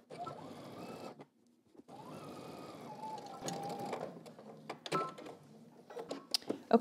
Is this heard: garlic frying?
no